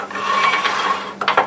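A wood lathe turns a bottle stopper blank at about 1387 RPM, giving a steady whirring, faintly rattling mechanical hum with no talk. A louder pulse comes in near the end.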